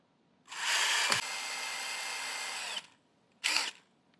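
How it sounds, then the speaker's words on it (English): Power drill backing Phillips head screws out of a brush on a Tennant S5 floor scrubber: a long close whine that shifts pitch partway through, then a brief second burst after a pause. "there are 3 more Phillips head screws that you have to take out"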